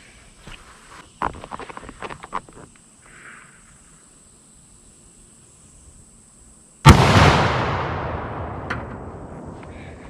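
A black powder gun fires a single loud, close blast, preceded by quiet handling clicks and followed by a long, slowly fading outdoor rumble and echo.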